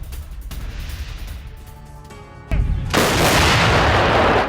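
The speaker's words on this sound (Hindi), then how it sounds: "यूक्रेन की फौज ने रॉकेट और आर्टिलरी से यह अटैक किया है।" Rocket and artillery fire during a Ukrainian attack on central Donetsk: a low, distant rumble gives way to a sudden heavy blast, then a loud, sustained roaring barrage that lasts to the end.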